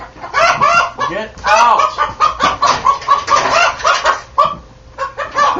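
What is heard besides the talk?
rooster clucking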